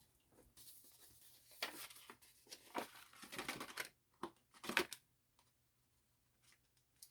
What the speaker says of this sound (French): on va aller chercher maintenant le message, les messages de l'enveloppe